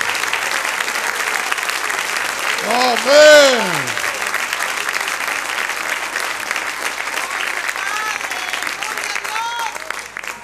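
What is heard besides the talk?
applause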